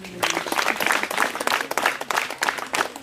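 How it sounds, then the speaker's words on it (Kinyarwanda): A crowd at an outdoor community celebration and political rally in Kicukiro, Gahanga, Rwanda, claps steadily and densely throughout, with a close, busy patter that rises and falls slightly. "Murakoze cyane mwiha amashyi"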